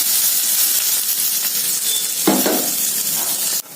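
Sliced plantain frying in hot oil with mustard seeds, chana dal, urad dal and curry leaves gives off a loud, steady, close hiss, with a brief stirring scrape partway through.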